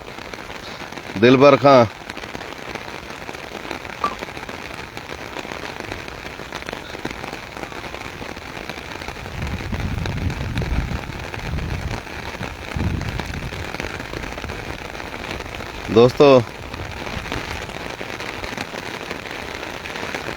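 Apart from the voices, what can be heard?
heavy rain falling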